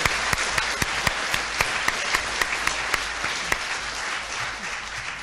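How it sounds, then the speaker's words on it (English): Audience at an international ME research conference applauding, a broad continuous wash of clapping with a few sharper nearby claps standing out, fading a little toward the end. "Please join me in giving them and their organization a round of applause for their outstanding work."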